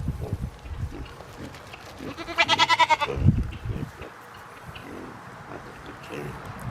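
A goat lets out one loud, wavering bleat midway, close by, amid quiet rustling and faint background noise.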